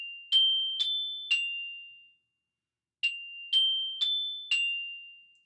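Mallet percussion in a 6th grade practice exercise: three clear bright struck notes, a pause, then four more, each ringing briefly and decaying, played alone with no talk.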